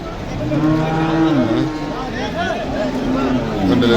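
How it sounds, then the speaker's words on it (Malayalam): A Vechur cow moos several times, long low drawn-out calls close by at a cattle market, with some faint background noise. "നല്ലൊരു പശു നിൽക്കുന്നുണ്ട്"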